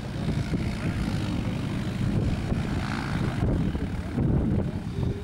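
A steady, loud ultralight aircraft engine roar, from a Viper SD4, drones continuously overhead in a slow pass at an air display, with broadband rumble and no clear rise or fade as it passes.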